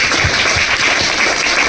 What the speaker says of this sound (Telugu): చప్పట్లు కొట్టండి ఒకసారి గట్టిగా